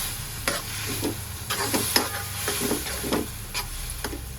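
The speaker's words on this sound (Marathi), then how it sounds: "छान परतून घेऊया." Vegetables for green vegetable pulao are sautéed in a pan, a soft continuous sizzle broken by repeated scraping strokes of a spoon at an irregular pace, close by and with no talk.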